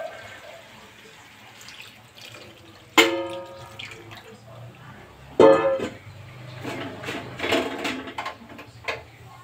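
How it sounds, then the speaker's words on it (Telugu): Water is poured into a pan of home-cooked chicken curry in two sharp splashing bursts, the second longer, followed by softer stirring and dripping sounds in a quiet kitchen. "ఇప్పుడు కొద్దిగా నీళ్ళు వేసుకోవాలి"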